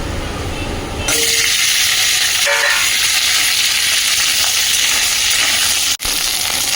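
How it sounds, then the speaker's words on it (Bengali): Okra frying in hot oil in a home kitchen, starting abruptly into a loud, dense, continuous sizzle that stays steady for several seconds, with a brief stir partway through. "তেল দিয়ে এখন ভেন্ডি ভেন্ডিগুলো ভেজে নেব"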